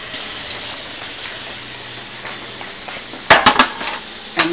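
Steady rushing of water pouring, a continuous hiss, followed by a few sharp clanks of metal near the end.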